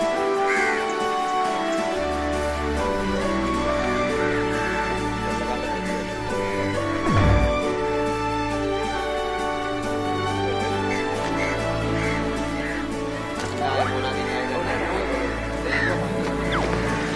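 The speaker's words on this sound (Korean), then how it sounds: "여기 선착장에는 까마귀가 굉장히 많이 있습니다" Many crows caw repeatedly at a busy fishing dock in Negombo, Sri Lanka, their calls scattered over a constant wash of harbor noise and engine hum.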